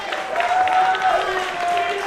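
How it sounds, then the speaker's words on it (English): London fans at a Toronto Maple Leafs baseball game cheer and applaud in a steady wash of crowd noise, with a commentator talking over the noise throughout. "Some London fans cheering here for the Maple Leafs"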